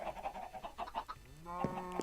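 Farm animals call in a run of short, repeated bleat-like sounds, followed near the end by a louder, drawn-out cry that may be a cow on a farm. The calls are moderately distant and no one talks.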